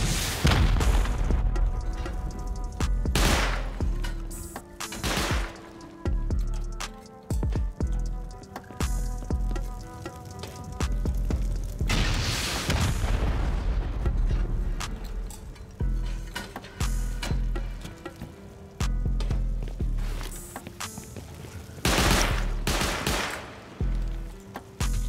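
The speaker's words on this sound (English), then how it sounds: "Oh, there's a turret here." A gun turret guards a base in a survival video game, firing loud, booming shots in rapid bursts with short pauses between volleys, sustained and close throughout.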